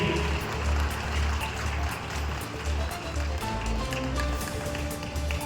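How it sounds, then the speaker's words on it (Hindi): An audience at a community association conference claps loudly, producing a thick, continuous patter of many hands that stays steady throughout, with a low rumble underneath. "जोरदार तालियां बजनी चाहिए।"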